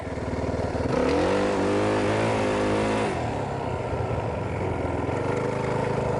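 A small dirt bike engine revs up hard and holds a high, buzzing pitch as the rear wheel slides, then drops back to a steady drone; no voices, close and loud.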